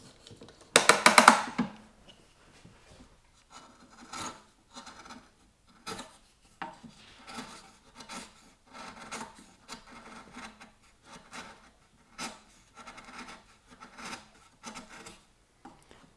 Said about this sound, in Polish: dla dłut to powiem szczerze, taka praca to już wymaga naprawdę ostrego dłuta